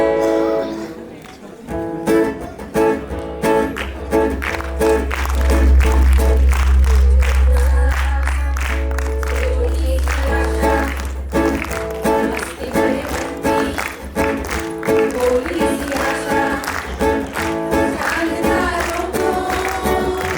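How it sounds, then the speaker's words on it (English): Audience applause at a school annual day as the choir takes the stage: steady dense clapping that lasts throughout, with music and a low hum underneath and some crowd noise. "Please welcome them on stage with a big round of applause."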